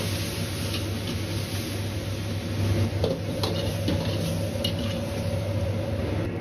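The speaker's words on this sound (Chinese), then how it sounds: "一定要煎炒至杏鮑菇的表面稍微有點焦黃，出香味後再盛出來。" King oyster mushroom pieces pan-fry in oil with a constant, even sizzle, punctuated by occasional light clicks and taps of a utensil against the pan, heard up close without talk.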